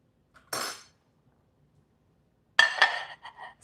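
A fork clinks and scrapes against a dish of cinnamon rolls made from biscuit dough, in two short clattery bursts separated by silence, the second one longer with several bright rings.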